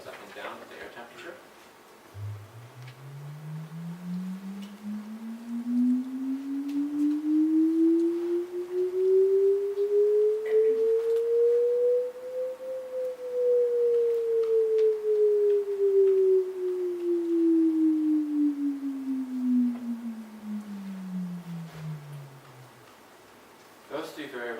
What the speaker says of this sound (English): it's sonified by a simple sine wave, which goes up and down with the air temperature